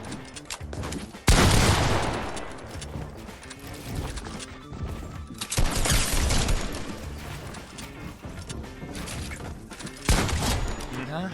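Pump shotgun blasts and other gunfire in a video game shooter match, with a few loud crashing shots standing out over a busy mix of game effects and mechanical clatter.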